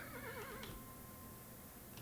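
A horse in the Kingdom Two Crowns video game gives a single short, wavering whinny at the start, quiet and somewhat distant, followed by a low, steady background hush.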